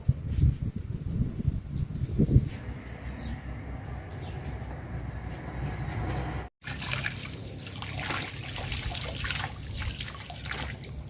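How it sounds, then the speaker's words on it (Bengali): Water trickles and splashes steadily while a fish caught from a pond is washed clean before cutting, with a brief break in the middle before the rinsing resumes. "মাছটা খুব সুন্দর করে ধুয়ে নিচ্ছি, দেখেন।"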